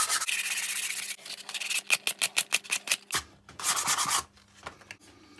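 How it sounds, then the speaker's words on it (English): Quick strokes of sandpaper rub over a Gransfors Bruks Wildlife Hatchet, first a continuous scrubbing, then a run of short, rhythmic rasping passes, then more steady rubbing, close and fairly quiet with no voices. "Give that a quick sand now."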